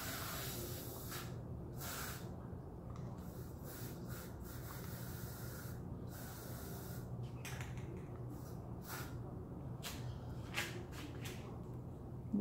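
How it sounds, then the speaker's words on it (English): Spray paint hisses from an aerosol can onto resin in repeated close bursts of varying length, with brief quiet gaps between them. "Spray paint."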